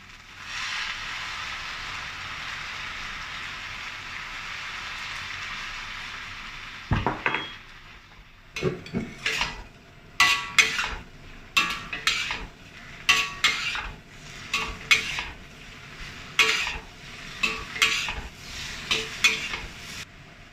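Cabbage stir-fried with garlic and dried shrimp in a pan: a steady, even sizzle at first, then a run of sharp metallic spatula scrapes and clanks against the pan, quick and uneven, over continuing frying hiss.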